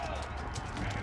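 Horse hooves clip-clop in Age of Empires IV during a Mongol campaign battle, a quick busy patter of several hooves mixed into dense game noise and a steady low rumble.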